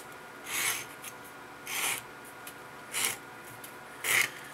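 Hollow punches being sharpened by hand, four evenly spaced rasping strokes about a second apart, each a brief scraping swish over a quiet background.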